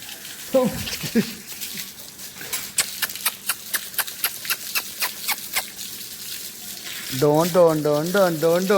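Water is poured over a dog during a bath, giving a series of sharp splashing pulses in quick rhythm; a voice speaks before and after the pouring.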